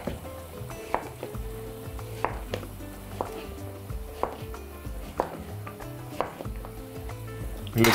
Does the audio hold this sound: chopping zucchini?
yes